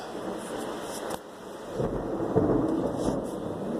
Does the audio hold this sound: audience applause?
no